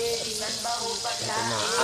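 Garlic sizzling as it sautés in a pan for a Filipino beef sinigang, a steady frying hiss running throughout with faint stirring and a voice speaking beneath it.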